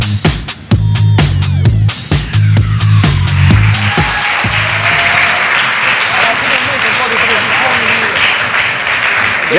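Applause from a studio audience at a TV show, with strong sharp claps at first, then fading into steady crowd clapping as a voice talks under and over it.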